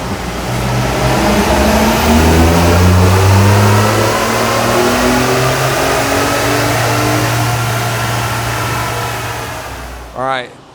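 A truck engine revs hard under load on a chassis dyno, a loud sustained roar that climbs in pitch through a full pull and then drops away, followed by a brief blip at the end.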